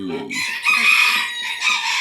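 A bantam chicken crows loudly and close by on a morning walk outdoors, one long drawn-out crow in several rising and falling sections that lasts the whole stretch.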